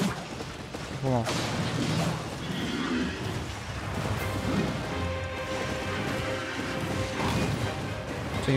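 A horse whinnies briefly amid busy Elden Ring game sounds and clatter, with someone talking over the top throughout.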